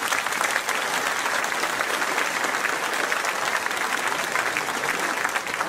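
Audience at a mayor's New Year greetings event in a town hall gives steady, dense applause, an even roar of many hands clapping throughout.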